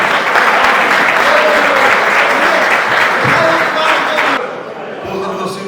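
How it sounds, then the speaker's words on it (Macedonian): Dense, loud crowd applause at the closing ceremony of the 15th workers' sports games in Macedonia, a steady roar of clapping that drops off sharply near the end. "Да поздравим се на аплауз"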